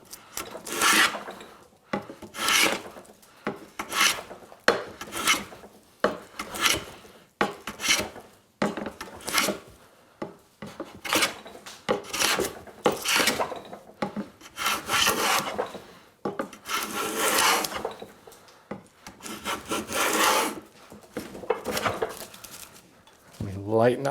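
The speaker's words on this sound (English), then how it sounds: "spot planing away where I can see I've still got a kerf" A hand plane makes repeated rhythmic strokes across a wooden board, taking spot passes over a saw kerf. Each pass is a short, close shearing swish with brief pauses between them, about fifteen strokes in all.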